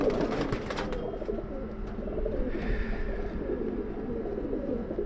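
A mix of new and old pigeons coos in a soft, continuous, overlapping murmur close by, with steady background noise and no talk.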